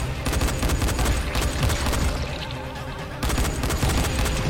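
Dense, continuous gunfire from the video game Dying Light, with rapid overlapping shots and bursts that keep a steady, loud rhythm for the whole stretch, pausing only briefly near the end before resuming.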